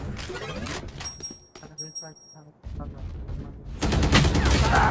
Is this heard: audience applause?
no